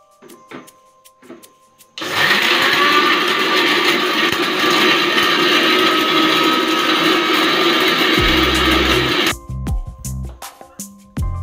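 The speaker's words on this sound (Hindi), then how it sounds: "ये मैंने ग्राइंडर में प्याज को डाल दिया है अब हम इसे ग्राइंड कर लेंगे" A kitchen mixer grinder grinds onion into powder with a loud, steady high-pitched whirring roar lasting about seven seconds, bracketed by quieter handling clicks and knocks.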